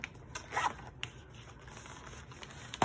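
Zipper on a cream-beige fabric pencil pouch that opens all the way around, quiet short scratchy zipping strokes in bursts close up, with faint handling rustle between them.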